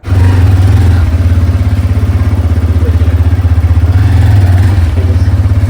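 A warmed-up motorcycle engine idling loudly and close, with a steady rapid thumping putter that holds even throughout.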